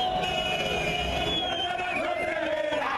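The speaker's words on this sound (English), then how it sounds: "Celebrations outside Mugabe's residence in Harare." A large crowd celebrates in the streets of Harare outside Mugabe's residence, a dense, continuous roar of cheering and shouting voices that stays loud and steady throughout, with no single voice standing out.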